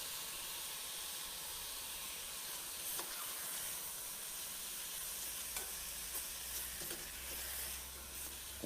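Tomato with green pepper and a pinch of salt sautés in a pan, giving a steady, close sizzle and hiss throughout, with a few faint clinks of stirring and no talking.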